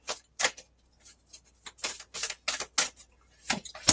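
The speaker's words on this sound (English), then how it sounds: "So I'm going to talk and shuffle all at the same time here." Crisp bursts of cards being riffled and shuffled, a series of short brisk rustles at uneven intervals, close and fairly quiet.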